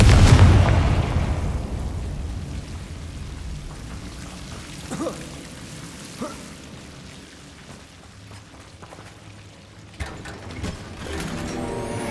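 Confringo spell in Hogwarts Legacy bursting into a loud fiery explosion at the start, decaying into a rumbling crackle, with a few softer thuds and a sharp impact later.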